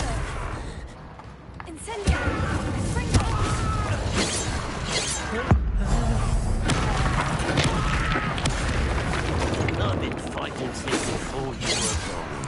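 A fire spell cast in Hogwarts Legacy comes as a dense burst of crackling, whooshing game effects with sharp impacts and clatters, layered over busy background sound.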